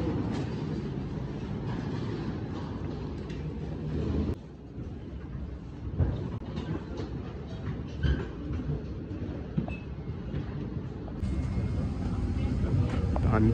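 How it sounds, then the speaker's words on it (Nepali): Airplane cabin during boarding, a steady broadband roar of engines and cabin ventilation fills the space, with passengers talking throughout and occasional clunks and bumps. "हामी चाहिँ अहिले प्लेनभित्र छिरिसकेका छौँ अब सिट खोज्नुपर्छ"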